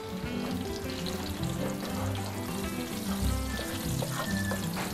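Ginger slices sizzle steadily in a pan over low heat, infusing oil for a salmon-head miso sinigang; a continuous, fairly even crackling hiss runs throughout with a low tonal hum beneath it.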